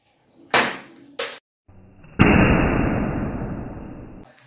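A homemade matchbox gun fires twice with short sharp pops close by, followed by a louder crack and a sustained hissing burst that slowly fades.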